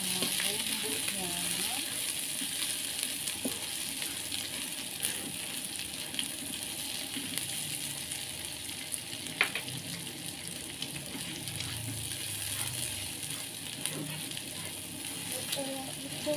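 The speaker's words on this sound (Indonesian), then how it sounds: "Lalu kita masukkan telur puyuhnya, ini telurnya kita masukkan. Kita tumis bersama bumbunya." Quail eggs are stir-fried with spice paste in a pan, a soft, steady sizzle with occasional stirring clinks and scrapes, heard at moderate distance over a low background.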